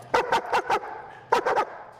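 A military working dog barks in two quick bursts, four sharp, close barks and then three more after a short pause, loud and clear over faint background noise.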